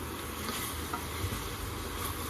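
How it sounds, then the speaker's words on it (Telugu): Prawns fry in a pan with tomato pieces, giving a steady, close hiss and sizzle that goes on without a break. "ప్రాన్స్ బాగా వేగిన తర్వాత టమాటా ముక్కలు వేస్తున్నాను"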